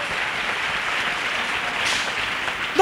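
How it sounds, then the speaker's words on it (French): Congregation at a church gathering applauding for Jesus, steady sustained clapping from a large crowd that stays even and fairly loud throughout. "Let us clap for Jesus."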